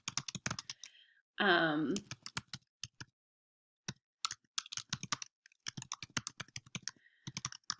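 Rapid typing on a computer keyboard, close and crisp, comes in uneven bursts of clicks. A person speaks briefly between the keystrokes.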